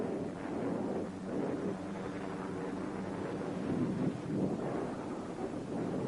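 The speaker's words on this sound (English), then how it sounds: "Here's the example of the sandstorm now among us." A sandstorm wind blows in a North African desert setting in 1944, a continuous rough roaring rush with slow surges and a muffled low rumble.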